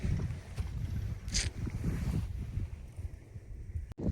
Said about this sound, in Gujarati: કટર હાલી ગયું છે